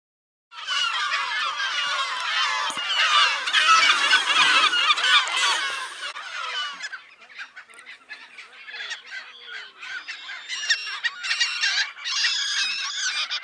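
Dense, raucous honking and squawking from a large seabird colony on Isla Marta in the Strait of Magellan, loud and continuous at first, then thinning into scattered overlapping calls.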